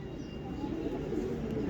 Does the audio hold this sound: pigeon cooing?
yes